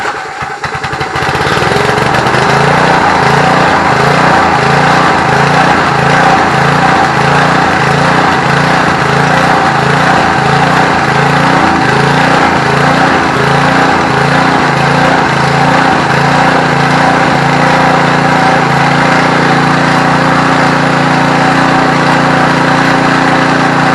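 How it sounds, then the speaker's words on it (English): A Trim Rite Lawn Keeper edger's small engine catches on a pull start and runs steadily near the microphone, a loud, even, slightly rough putter that holds with no talk. "Let's give her a pull start and see how she does."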